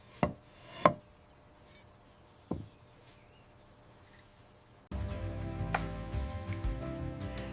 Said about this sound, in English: Listen to that fresh, crisp cut.